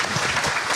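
A brief burst of dense audience applause at a public talk event in Gwanghwamun, welcoming a speaker to the stage.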